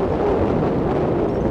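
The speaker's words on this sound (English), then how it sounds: "it's very windy down in this little valley, and I'm getting a lot of camera shake" Strong wind buffets the microphone down in a small valley, producing a steady low roaring rumble that fills the whole moment without any talking.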